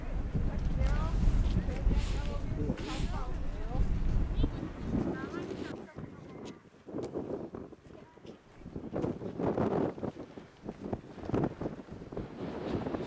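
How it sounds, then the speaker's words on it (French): Strong wind buffets the microphone with a roaring rush, easing midway into gustier, crackling bursts outdoors at Aso volcano, Japan. "Il y a du vent, ça souffle."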